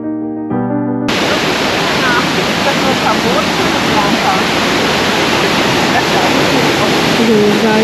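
A waterfall in a regular city park in Munich roars as a loud, steady rush of falling water that fills the whole clip.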